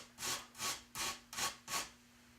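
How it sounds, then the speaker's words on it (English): Food is rubbed back and forth against a fine grater in five quick, even rasping strokes, close and fairly soft, with no talking. "using the grater and just rubbing it against there"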